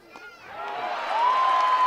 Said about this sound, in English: 1-2, and the crowd fired up again